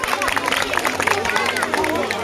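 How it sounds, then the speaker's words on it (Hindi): A village crowd gathered for Babasaheb Ambedkar's birthday celebration in Garhi Kunheda claps loudly and steadily, the dense patter blending with a constant hubbub of voices throughout. "इसके लिए आप जोरदार क्लैपिंग करेंगे, जोरदार तालियां आप इसके लिए देंगे"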